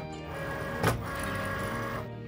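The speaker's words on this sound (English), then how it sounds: "You can go ahead and feed your mat into the machine" A Cricut cutting machine feeds in a green sticker mat for print-then-cut, a short whirring motor hum with a brief mechanical clunk near the middle, close and fairly quiet.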